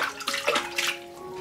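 Tap water runs and splashes as a whole raw chicken is rinsed, a short close gush with uneven sloshing bursts and no talking.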